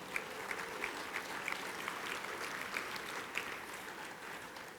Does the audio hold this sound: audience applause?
yes